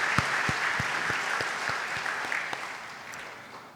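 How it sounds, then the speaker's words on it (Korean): A church congregation at a Sunday worship service claps together for several seconds, a dense patter of many hands that gradually fades, with no talking over it. "하나님께 영광의 박수 하겠습니다."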